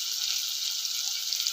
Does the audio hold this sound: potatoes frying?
yes